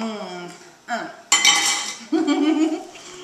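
A spoon scrapes and clinks against a bowl of thick cream pie filling, close and fairly loud, in a few separate bursts of scraping and knocking with short pauses between them.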